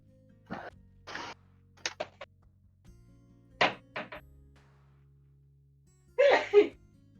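During a quiet tabletop Dungeons & Dragons session, scattered soft knocks and thumps lead up to one close, sharp sneeze near the end.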